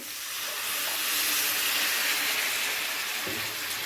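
Potatoes and cauliflower frying in a pan with spices give a loud, steady broadband sizzle and hiss as a little water is added, holding strong throughout with a faint clink near the end.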